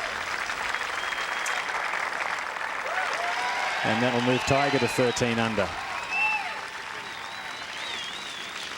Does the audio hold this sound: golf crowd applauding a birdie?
yes